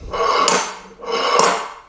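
A homemade brazed metal slide hammer with a collar is handled up close, making two scraping, rasping metallic slides with sharp clinks, evenly spaced over two seconds with no talk.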